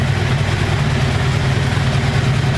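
A 1984 Honda Saber VF700S motorcycle idles on its own gas tank, a loud, steady low rumble with an even throb, heard close up and continuous with no voices.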